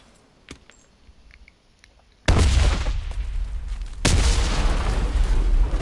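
A grenade explosion in the video game Enlisted, two heavy deep booms arriving a couple of seconds apart, each followed by a loud rumbling tail, after a quiet stretch with faint clicks.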